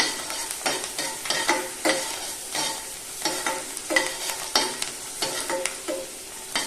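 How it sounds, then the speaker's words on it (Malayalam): Garlic fries in hot oil for Kerala mango pickle, a steady close sizzle with a regular rhythm of spatula scrapes and stirring strokes, and no voices. "ഇത്രയും വെളുത്തുള്ളിയും കൂടെ ചേർക്കാം."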